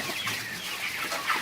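Broiler chickens cluck softly in a poultry house during Newcastle disease vaccination, a low scattered murmur of several birds at moderate distance with no talking.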